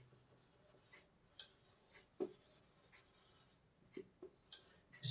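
A pen scratches steadily across paper, writing out a physics statement with soft continuous strokes and a few sharper taps, close and alone.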